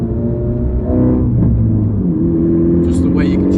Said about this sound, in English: I love the exhaust in this car. It's just the way it sounds